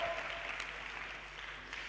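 A church congregation applauds in praise during a sermon, a steady dense wash of clapping that fills the space evenly from start to finish without any talk over it.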